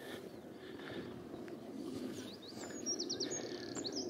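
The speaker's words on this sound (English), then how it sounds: "The birds chirping away." Birds chirp and tweet near a path at a large onshore wind farm in Scotland, with brief bright calls rising toward the end over a soft, steady outdoor background.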